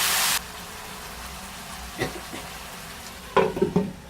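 Vegetables sizzling softly in a pan on low flame, with a few spoon scrapes and clinks as they are stirred, and no talking.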